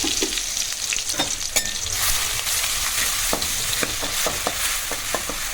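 Ground onion paste fries in hot oil, giving a loud, close, steady sizzle with scattered sharp pops and crackles and occasional stirring scrapes, with no talking.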